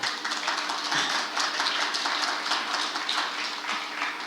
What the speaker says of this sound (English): Hold your applause, I didn't say anything yet.